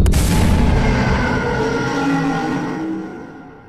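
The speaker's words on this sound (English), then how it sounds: "I heard a gunshot." A single loud gunshot blast in a horror video game, with a sharp attack and a long, slowly fading rumble and ringing tail, heard alone with no talk.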